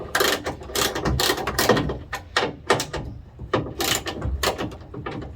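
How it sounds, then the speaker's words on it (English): Ratchet wrench removing bolts from a Toyota Tacoma truck bed, a run of quick metallic clicking bursts repeating in short rhythmic strokes, close and fairly loud with brief pauses between. "Now we'll just pop out the 3 bolts, 2 on the bottom. Make sure your ratchet's going the right way."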